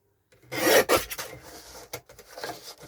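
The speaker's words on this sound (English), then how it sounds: "Isn't that a lovely sound? I love a guillotine." A paper guillotine slices through scrap paper with a brief rasping swish and scrape, close and fairly quiet, followed by softer rubbing sounds.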